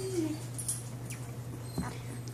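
Young puppies give faint whimpers and a short squeak over a steady low electrical hum, close by and quiet.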